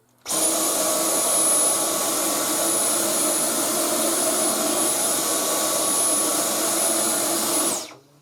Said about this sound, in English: Pop the up top tool straight onto the V10 and angle it down a little bit, and I can clean on top of this picture frame here.